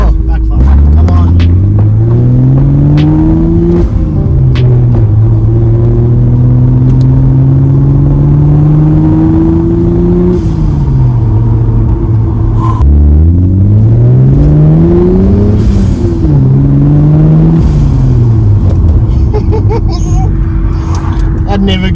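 A turbocharged Mercedes C180 with an M104 engine accelerates hard on a test drive, its loud, close engine note climbing repeatedly and dropping at each gear change, with a rumbling drone throughout.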